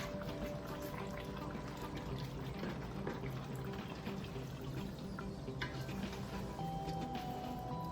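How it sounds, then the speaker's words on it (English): Water pours steadily into a pot, a continuous rushing splash that runs unbroken from start to finish, with no voices. "Let me get some water in there."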